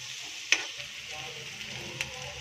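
Onions and green chillies frying in a pan give a steady soft sizzle throughout, with two sharp spoon taps against the pan and no voices.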